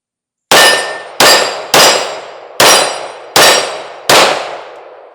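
Six loud, sharp gunshots from a Springfield Armory Prodigy compensated pistol firing ball ammo, spaced unevenly with brief pauses between them, each with a bright ringing decay.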